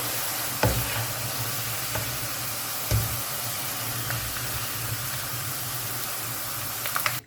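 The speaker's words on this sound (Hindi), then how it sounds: "तो प्याज जो है गोल्डन ब्राउन हो चुका है, फ्लेम में ऑफ कर दूँगी और अब इसे ऑयल से निकाल लेंगे।" Golden brown fried onion slices are lifted out of hot oil, a steady close sizzle and hiss running throughout, broken by a few sharp utensil clinks against the pan, with no voices.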